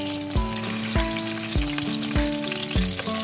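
Fish frying in a pan gives a steady, close sizzle, with sharp bursts recurring roughly every half second over the bubbling.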